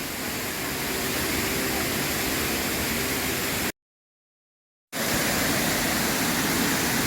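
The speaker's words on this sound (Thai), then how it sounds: "ดื่มด่ำกับความสวยงามของน้ำตกบุญญาบาล" Steady, dense rushing of Bunyaban Waterfall in Ranong, Thailand fills the scene, broken by a brief total silence before the roar resumes unchanged.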